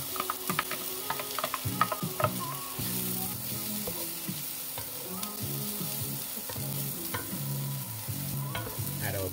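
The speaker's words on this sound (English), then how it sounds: "added some more oil, gonna add our onions and garlic. Add in our other veggies." Onions, garlic and mixed vegetables sizzle in oil in a pan for a plantain and black bean breakfast hash, with steady frying hiss and repeated scraping and stirring clatter close by.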